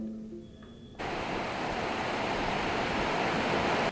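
The Baspa River near Chitkul in the Kinnaur Valley rushes as a loud, steady wall of water. It cuts in abruptly after a quieter moment and continues unbroken, with no talking.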